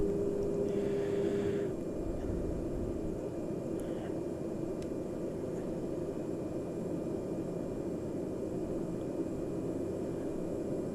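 A light airplane descends on approach with full flaps, slowing to about 55 knots over tree-covered bush country; its engine and wind make a steady, loud drone that barely changes throughout, with no voices.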